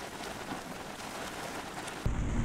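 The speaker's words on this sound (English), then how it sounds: "there's a huge wall of rain coming and like the drops are preceding the rain" Heavy rain sweeps in over a boat moored off Bermuda, a dense steady hiss of drops that thickens into a louder downpour near the end, with no voices.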